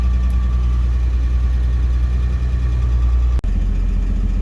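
A car engine idles with a steady low rumble and vibration after a cold start, warmed enough to idle without the choke, close and continuous, with one brief click near the end.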